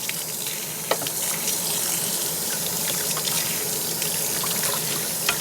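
Water runs steadily from a kitchen tap on metered mains supply, a constant hissing splash with a few small clinks, and no one talking.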